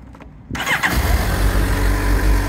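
A Suzuki GSR750 motorcycle with its detuned GSX-R engine fires up after a brief starter whirr, then settles into a loud, steady, close idle with no talking.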